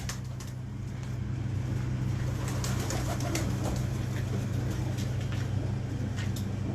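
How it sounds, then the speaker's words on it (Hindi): A teddy pigeon coos steadily in a loft, soft repeated calls over a constant low hum, with faint background traffic and no talking. "ये टैडी कबूतरी है।"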